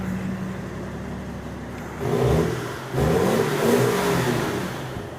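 A BMW X5's M57 six-cylinder diesel engine idles, then revs up in two strong bursts, a deep mechanical roar rising and falling close by.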